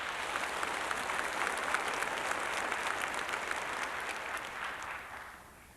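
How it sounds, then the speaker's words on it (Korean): A congregation at an early-morning church service applauds the choir, a broad, steady wash of clapping that fades away at the end, with no voices over it. "박수하십시다."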